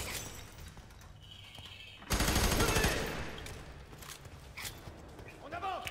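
Gunfire in the video game F.3.A.R: a loud burst of rapid automatic shots with shattering debris cuts in midway over low background game noise, then scattered fainter shots and impacts, with someone talking.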